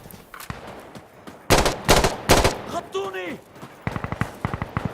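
Sharp, loud bursts of gunfire in the video game Insurgency: Sandstorm, a few heavy shots then a rapid rattling volley, with a brief whooshing sweep between them.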